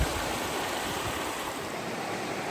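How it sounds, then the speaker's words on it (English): A river near hot springs in Idaho rushes steadily, a close, loud, unbroken wash of flowing water with no voices. "I made it all the way down to the river here."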